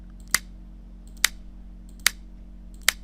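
Four sharp custom mouse-click sound effects on a Windows computer come at steady, evenly spaced intervals over a faint background hum, crisp and close.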